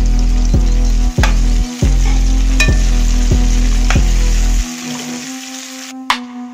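Caramelizing onion with added green chili pepper frying in a pan, a loud continuous sizzle broken by several sharp stirring clicks, then fading to a quieter crackle near the end.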